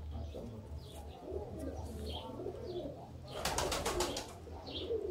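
Sialkoti pigeons cooing in a loft, soft repeated coos over a low hum, with a burst of brighter chirping or wing noise midway.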